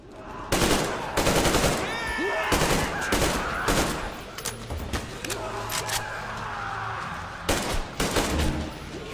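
Bursts of Kalashnikov automatic gunfire from the Metro video game, several loud rapid volleys separated by short pauses, with mechanical clacks and handling noises between them.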